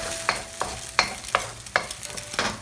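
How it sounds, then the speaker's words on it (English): Egg is stirred into fried rice in a pan, with about seven distinct scraping stirs in a steady rhythm over a soft sizzle, close and clear with no talking. "So this one you can stir, because we don't want the egg to become one big piece."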